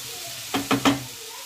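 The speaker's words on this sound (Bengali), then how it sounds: "দিয়ে এবার ভালোভাবে মিশিয়ে নিচ্ছি।" Prawns and winter vegetables with raw tamarind, salt, turmeric and cumin are stirred in a frying pan: three quick scraping strokes in a row over a soft, steady sizzle.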